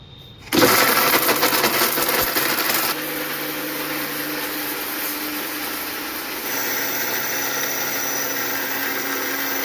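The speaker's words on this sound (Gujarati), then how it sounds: "તો એકદમ મિક્સરમાં મસ્ત પીસાઈ ગયું છે" A mixer grinder grinds churma for ladoos with a loud, steady motor whir that starts abruptly, drops slightly in level after a few seconds, then swells again, running continuously with no talk.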